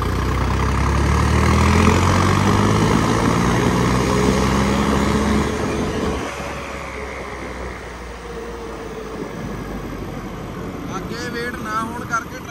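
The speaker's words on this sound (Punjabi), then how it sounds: "1000 ਚੱਕਰਾਂ ਦੇ ਟਰੈਕਟਰ ਜਾਂਦਾ ਆ" A tractor engine turning at 1000 rpm, fitted with a front weight kit, gives a loud, steady low drone close by that drops a little partway through, with someone talking over it.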